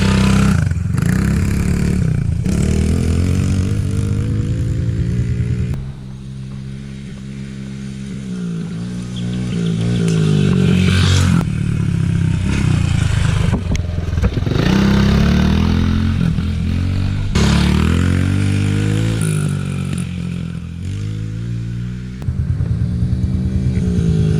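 Honda CRF50 and big-bore CRF88 dirt bikes racing, small engines buzzing and revving hard for over twenty seconds, with a brief dip in pitch and loudness midway before climbing again, close and loud.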